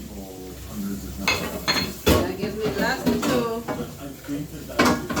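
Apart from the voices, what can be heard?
washing dishes, pots and pans clattering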